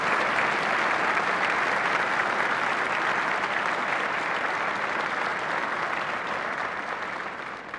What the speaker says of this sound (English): Please join me in a round of applause for our distinguished guests